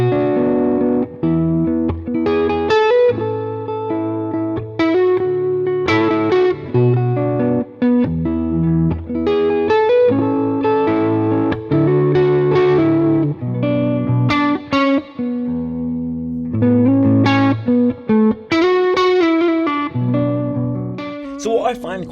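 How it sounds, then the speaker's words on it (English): A Les Paul Custom electric guitar plays in a clean tone, a continuous stream of sustained chords and single notes with steady loudness, close and unaccompanied, with only a light touch of effects. "a Les Paul Custom that basically sounds like this, it's got a really nice clean tone that's balanced"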